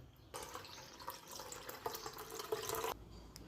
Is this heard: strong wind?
no